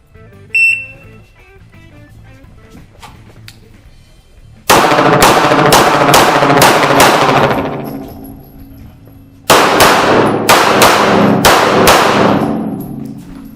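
A REX Zero 1 S pistol fired on a range at SHOT Show 2017: two rapid strings of about five loud, sharp shots each, evenly spaced with ringing decay, after a quiet pause with faint background noise.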